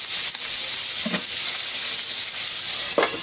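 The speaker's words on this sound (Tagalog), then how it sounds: "Nilagay ko na yung pork, pinababayaan ko muna siya mag-brown ng kaunti bago tayo maggisa" Pork browning in a hot pan gives a loud, even sizzle that holds throughout, with a few faint scrapes from stirring close by.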